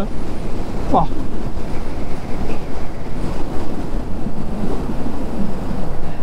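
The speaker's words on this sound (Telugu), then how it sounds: "ఈ యొక్క ప్లేస్లో అంత విండ్ అనేది ఉంటుందన్నమాట." Strong wind at a windmill site near Chitradurga on a motorbike ride from Bangalore to Hampi, heard as loud, constant roaring gusts buffeting the microphone with a faint voice underneath.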